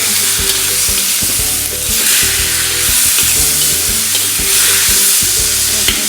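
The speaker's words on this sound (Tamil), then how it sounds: "இப்போ டொமேட்டோ ஆட் பண்ணுறோம்" Tomatoes frying in a pan for a baingan masala, a steady close sizzle with occasional stirring scrapes throughout, no voices.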